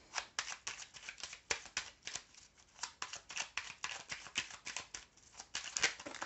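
Tarot cards being shuffled, with rapid papery riffles and flicks that repeat steadily and close by, with no talking.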